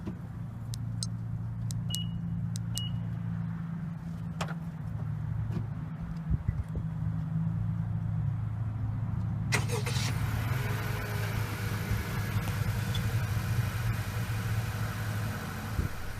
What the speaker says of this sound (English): Simply press lock on the OEM fob 3 times to start the vehicle.